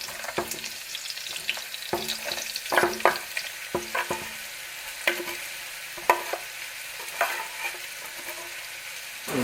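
Chopped onions fry in hot coconut oil in a non-stick pan, a steady close sizzle broken by scraping stirs from a wooden spatula, with no one talking.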